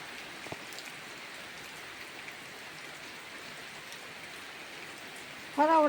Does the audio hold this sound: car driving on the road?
no